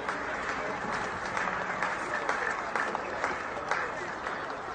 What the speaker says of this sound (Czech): potlesky jistě